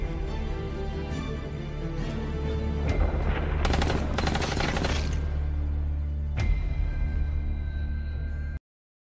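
Gunfire in a Jack Reacher action scene: a burst of sharp rapid shots with shattering impacts amid a rumbling low backdrop, building to a dense volley midway then a final crack before cutting to silence.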